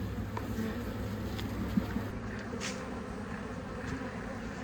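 Honeybees at an open beehive during an inspection give a faint, continuous low buzz, a soft steady hum with a few brief knocks, heard close without any voices.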